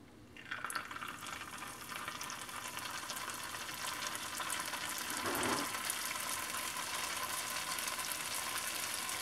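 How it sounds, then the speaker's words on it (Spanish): Churro dough dropped into hot oil, a steady bright sizzle and crackle of frying that swells slightly midway and holds on, close and even. "cuando el aceite ya está caliente, empezamos a formar los churros"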